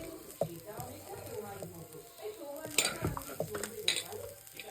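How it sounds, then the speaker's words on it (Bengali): Rice being stir-fried with milk powder in a pan for chicken biryani, a soft continuous sizzle with scraping spoon strokes and a few metallic clinks against the pot, close by and moderately loud. "আমরা গুঁড়া দুধ দিয়ে ভেজে নিই।"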